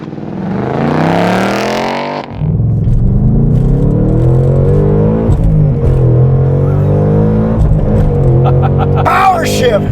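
A 2021 Ford Mustang Mach 1 launches hard under launch control, its V8 roaring loudly from the cabin and climbing through rising revs with a brief break at a shift, as voices talk and shout over it.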